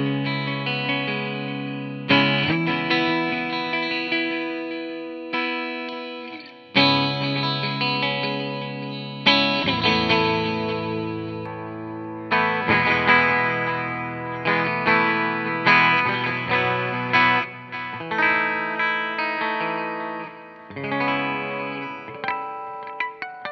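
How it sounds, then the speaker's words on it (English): Harley Benton JA-25TH Jazzmaster-style electric guitar in Firemist finish played through effects, loud strummed chords and riffs with distortion, chorus and echo, steady and close for the whole stretch with no talking. "Let's get some tones before that camera battery runs out."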